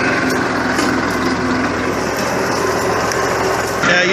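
A little Massey Ferguson 1433 4x4 compact tractor skidding a large tree: its small engine drones steadily at a high, buzzing pitch, close and loud, with a brief change near the end and no talking.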